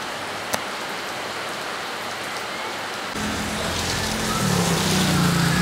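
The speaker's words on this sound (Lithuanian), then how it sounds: "čia taip užėjo lietus, o vėjo nėra" Rain falls steadily on a windless day, a continuous soft hiss with scattered drops that grows denser and louder in the second half.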